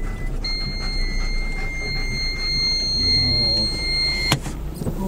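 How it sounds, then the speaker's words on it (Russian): Car parking sensor beeping steadily as a rear obstacle warning, set off by tall grass behind the car; a thin, continuous electronic tone sits over low engine rumble and outdoor background noise. "Писк это вот парктроник, если трава высокая, он всегда пищит, что сзади препятствия."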